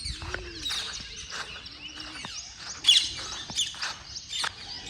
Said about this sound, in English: so many parrots